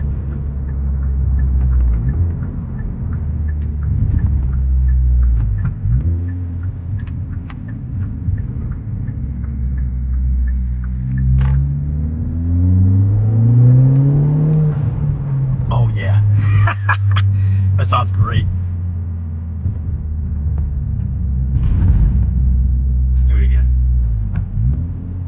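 A Kia Forte GT engine with a tune, intake and exhaust rumbles, then revs climb sharply in a hard acceleration with wheel spin and rising pitch, while a person talks over the engine noise.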